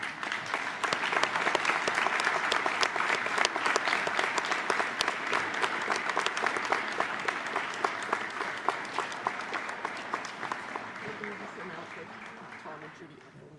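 Sustained applause from a gym crowd at a high school basketball Hall of Fame ceremony at midcourt, dense clapping that holds steady for over ten seconds before slowly tapering off.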